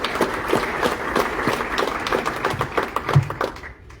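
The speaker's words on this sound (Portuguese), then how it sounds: "A vocês também uma grande salva de palmas" A crowd at a 2022 Socialist Party municipal campaign rally in Vizela claps in steady applause for several seconds, with a few thuds and scattered individual claps in the room.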